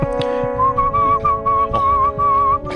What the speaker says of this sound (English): he whistled along to the CD